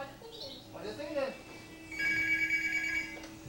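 A telephone rings at home as a conversation carries on, a steady electronic ringing tone lasting about a second alongside nearby speech.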